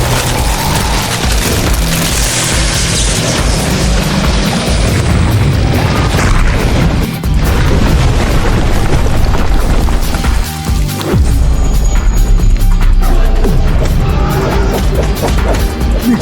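Continuous barrage of booming explosions and crashing impacts from a relentless pinpoint bombardment in a fantasy battle scene, loud and dense with heavy low rumble throughout, no speech.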